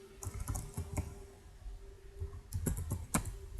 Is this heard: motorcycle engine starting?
no